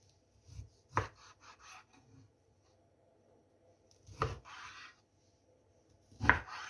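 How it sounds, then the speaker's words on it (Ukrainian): A knife cuts through a slab of salo, pork fat with meat streaks, on a board to fit a one-liter jar, giving a few sharp, close chopping thuds between quiet pauses. "я беру таку літрову банку і буду різати так, щоб сало ставало у банку"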